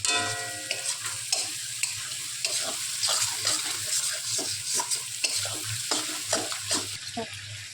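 Prawns stir-fried with meat masala and spices in a pan: a constant close sizzle with rhythmic scraping and stirring strokes of a spatula, fairly loud, with no talking.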